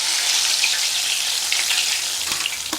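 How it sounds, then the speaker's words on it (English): Steady crackling sizzle of chicken frying in hot oil, dense and continuous with a few sharper pops near the end. "while the chicken is finishing frying"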